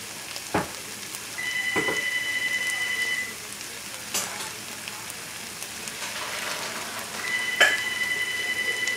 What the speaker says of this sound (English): Just let me get this rigatoni into the sink, and don't rinse it off